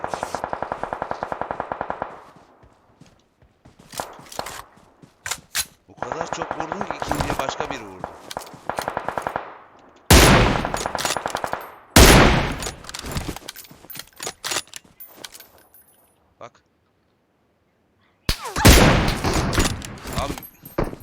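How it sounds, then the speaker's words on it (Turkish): Gunfire from the video game PUBG on the Livik map: repeated loud automatic-weapon bursts and single sharp shots come in clusters, broken by short quiet gaps, with a player talking in between. "Kaç kişi bunlar bana sıkıyor? Nereden sıkıyor bu? Çatıdan mı sıkıyor?"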